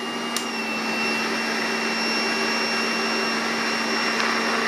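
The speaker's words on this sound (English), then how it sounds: "And then we'll run the polisher." An electric polisher runs at low speed, powered by an EcoFlow RIVER 2 PRO portable power station, making a steady, close whine with a constant pitch and no talk.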